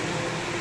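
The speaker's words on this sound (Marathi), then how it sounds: "लावला कूलर." Air cooler running indoors, a steady whooshing hum of fan and airflow, moderately quiet and even throughout, with no voices.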